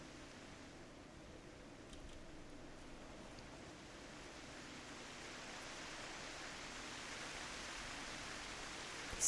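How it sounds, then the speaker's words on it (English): Steady broadband rush of a waterfall in Kugane, Final Fantasy XIV, a continuous soft wash of falling water that swells slightly toward the end, with no voices over it. "the sound of the waterfall"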